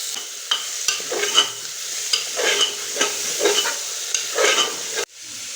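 Onion, tomato, capsicum and green chilli sizzle in a pan for a Mughlai recipe. A spoon scrapes through them in regular stirring strokes about twice a second over the steady frying hiss, which cuts off sharply near the end.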